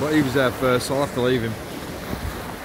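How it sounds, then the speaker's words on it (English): Ocean waves wash in on a beach on the Fylde Coast as a steady, broad surf rush, with someone talking over the first half and the surf carrying on alone afterward. "So I'm just watching these waves coming in"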